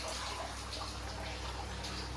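A cow-mouth spout at a hillside temple near Patanvav pours a continuous thin stream of water, a soft, steady trickle and splash heard close and faint throughout.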